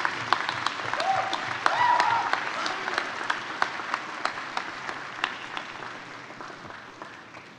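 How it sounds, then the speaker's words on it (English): Convocation graduates applaud their families and friends, a broad round of clapping in a large hall that gradually thins out into scattered, distinct claps before fading. "give them a warm round of applause for supporting your journey"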